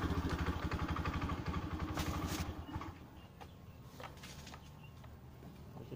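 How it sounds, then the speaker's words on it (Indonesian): Honda Beat FI scooter engine being kick-started: a rapid mechanical chugging and clatter for about two seconds, then fading into a faint, low engine idle with soft background noise. "Sekarang kita coba pakai starter kaki saja dulu."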